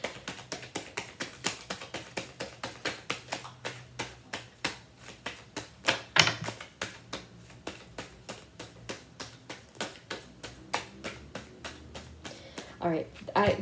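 Tarot cards being shuffled during a card reading, a close, steady run of crisp riffling taps repeating rapidly, with a few louder snaps along the way and faint talk near the end.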